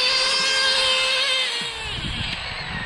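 An RC drift car's engine revs hard in a continuous, buzzy, high-pitched whine that holds its rise and then eases slightly, close by.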